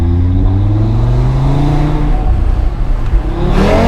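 Audi RS3 engine while driving, a loud close rumble with rising harmonic tones as it accelerates, then a brief change in pitch near the end.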